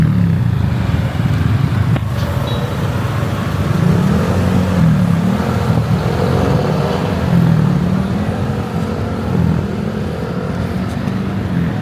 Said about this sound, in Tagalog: Traffic na diri sa may katedral.